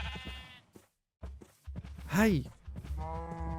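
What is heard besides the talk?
sheep bleating in the video game Minecraft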